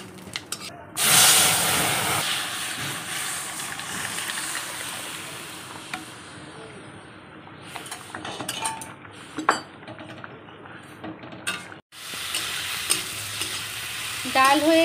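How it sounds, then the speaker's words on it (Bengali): Dried chillies and cumin seeds are dry-roasted and stirred in an empty wok, giving a soft crackling hiss with scattered scraping and clinking of the spatula against the pan, fairly close and quiet, no talk. "লঙ্কাটা শুকনো কড়াইতে একটু টেলে নিচ্ছি। শুকনো কড়াইতে জিরেটা এইভাবে নেড়ে নিলে এত সুন্দর গন্ধ হয়"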